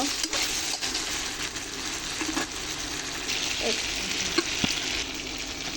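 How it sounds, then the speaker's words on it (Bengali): Spices with chilli powder fry in a pan for a curry of river pangas fish and tender ash gourd, giving a loud, continuous sizzle with stirring scrapes throughout and a few short knocks. "এবার আমি পাঁচ মিনিট মশলাটাকে কষিয়ে নেব"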